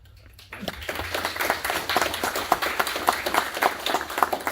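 An audience at a VFW awards ceremony breaks into applause, many hands clapping densely and steadily for several seconds after a quiet start, filling an indoor hall, with no talk over it.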